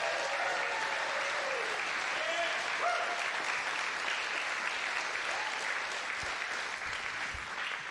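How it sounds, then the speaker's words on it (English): A church congregation gives a long, steady round of applause for 2024 graduates during a service, a dense even wash of many hands that carries on unbroken and sits fairly far off, with a few faint voices underneath. "Will you give them a big round of applause?"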